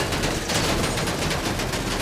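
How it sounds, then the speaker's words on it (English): Sustained rapid gunfire in the video game GTA 5 Online: a dense, loud barrage of overlapping automatic shots that runs without a break for the whole two seconds and drowns out other sound. "Who's shooting at us?"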